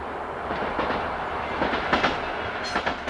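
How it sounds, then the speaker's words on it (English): A Class AM86 staff train passes on freight Line 27A in Antwerp, its steady rolling rumble carrying a few rhythmic wheel clacks over the rails, fairly close and continuous. "It is freight only, apart from occasional staff trains such as this Class AM86."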